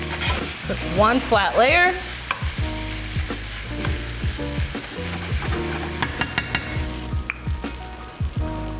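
Chicken sausage hash with potatoes and tomatoes being stirred and scraped in a hot skillet, loud rhythmic scraping strokes over continuous sizzling, with a brief spoken phrase partway through.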